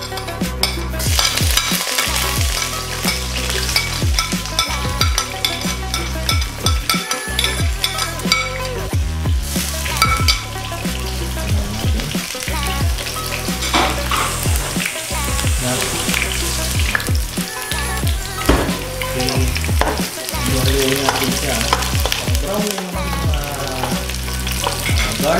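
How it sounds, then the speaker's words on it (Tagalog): Garlic and onion sauté in a pan for beefsteak, making a loud, continuous crackling sizzle close by, with repeated scraping and stirring strokes throughout and no talk. "ang ating ilalagay na bawang at sibuyas"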